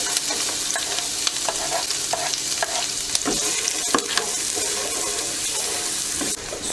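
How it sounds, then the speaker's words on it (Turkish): Steady sizzling of onions and peppers frying in butter in a pan, with occasional stirring scrapes; no voices. "Soğanlar pembeleşene kadar kavuruyorum."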